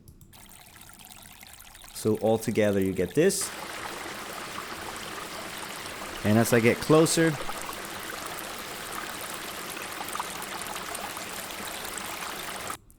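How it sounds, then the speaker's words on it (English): A close-up forest stream runs in a sound-design mix, giving a steady, continuous rush of flowing water. Someone talks over it in two short bursts. "I also have a stream close-up, which is a stronger water sound like this."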